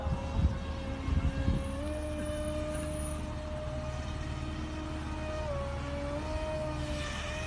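A made-in-Nigeria test drone at full throttle gives a steady high-pitched motor whine with shifting tones, heard continuously from a moderate distance, with a few brief thumps at the start.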